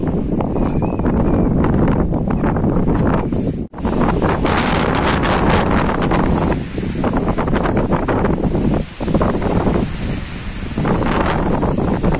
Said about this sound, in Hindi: खेत वाले घर में बहुत तेज हवा चल रही है